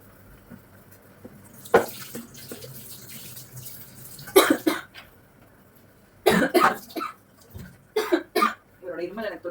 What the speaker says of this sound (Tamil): இருமல் எனக்கு தொத்திக்கிச்சுன்னு நினைக்கிறேன்.